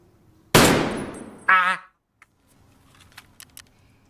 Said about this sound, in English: The gunshots are actually extremely loud